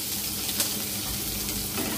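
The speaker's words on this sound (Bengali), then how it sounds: "রসুনটা হালকা ফ্রাই হয়ে যাবে" Garlic frying in hot oil on the stove, giving a steady close sizzle with fine crackling throughout and no talking.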